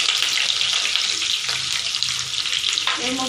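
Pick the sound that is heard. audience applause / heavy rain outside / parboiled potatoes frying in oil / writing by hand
parboiled potatoes frying in oil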